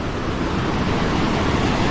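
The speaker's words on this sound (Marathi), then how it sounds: "जबरदस्त वॉटरफॉल आहे" A steady, roaring wash of falling water from a waterfall beneath a rock shelf in the Konkan region fills the whole stretch, broad and constant without any breaks or voices.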